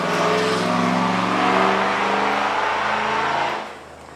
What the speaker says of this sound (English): gotta love the stock cars that love to go racing by